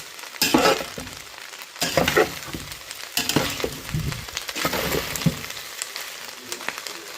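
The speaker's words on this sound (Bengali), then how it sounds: "আমি কিছু চিজ দিলাম, আমি একবার নাড়া দিব এটাকে।" Cheese pasta being stirred in a hot pan, scraping and sizzling in several separate bursts of stirring with brief quieter gaps between, close and fairly loud with no talking.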